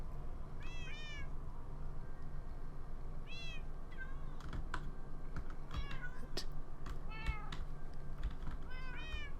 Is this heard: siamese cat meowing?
yes